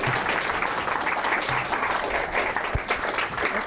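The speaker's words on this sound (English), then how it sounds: "Give a big round of applause." An audience claps in steady, sustained applause that stays at an even level throughout, with no voices standing out from the clapping.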